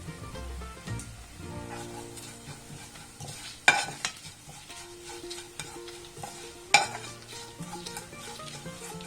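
Spices with black pepper being stirred and roasted in a pan for a Kerala horse gram curry, giving a steady sizzle with scraping strokes and two sharp utensil knocks against the pan, no voices.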